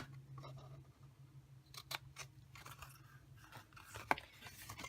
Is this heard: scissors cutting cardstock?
yes